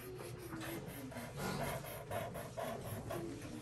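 A black drawing crayon scratches back and forth across paper in a zigzag line, a faint, close rubbing that comes in short repeated strokes with no talking.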